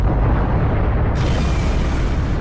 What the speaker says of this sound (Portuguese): nós dois explodiríamos e iríamos pelos ares numa explosão nuclear gigantesca